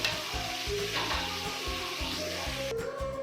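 Sliced fried onions go into a pan of sizzling masala for Hyderabadi dalcha, a steady loud frying hiss with rhythmic stirring and scraping thumps, ending in a sharp clatter, with no talking.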